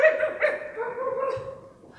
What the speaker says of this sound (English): But we do need to get rid of that dog, Nana.